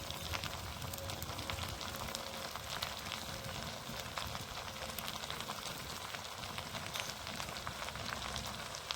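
Goat head frying with ginger, garlic and spices in a pan, a steady dense sizzle running unbroken and fairly close throughout.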